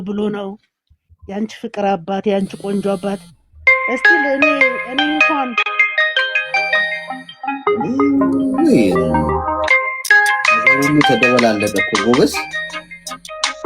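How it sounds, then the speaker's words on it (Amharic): A phone rings with a sung, melodic music ringtone for an incoming call, loud and close, its bright tonal phrases and vocals filling the whole stretch. "ይቅርታ እንዴ ስልክ ገብቶብኝ ነው።"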